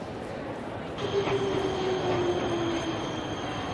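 A train in the video game Nobodies: Silent Blood, a continuous rumbling roll with a faint high squeal and a brief tonal whine, steady and close, with no voices.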